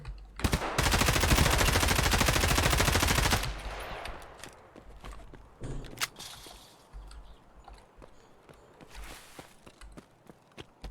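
Automatic gunfire in the video game Escape from Tarkov, a loud sustained burst for about three seconds followed by scattered single shots and footstep-like clatter, with no talking.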